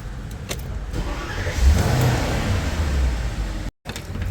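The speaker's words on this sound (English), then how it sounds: "now we're going to start the car up to bring it to a warm temperature for the oil" A car engine is started and left running to warm the oil after an oil change, a steady mid-pitched idle rising after the start with a brief dropout near the end.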